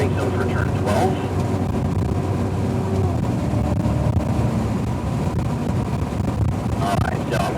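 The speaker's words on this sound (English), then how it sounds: "Now we can accelerate down the straightaway into the brake zone for turn 12." A Cadillac CTS-V accelerates down the straightaway at the Circuit of the Americas track, a loud steady engine roar mixed with heavy wind rush, heard from inside the car with a voice talking over it.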